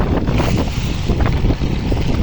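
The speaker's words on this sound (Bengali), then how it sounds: "আরেকটা যাত্রীবাহী ট্রলার আসছে।" Heavy wind and rough water on the Padma River while a passenger trawler approaches, a loud continuous roar of gusts buffeting the microphone over choppy waves, with no talking.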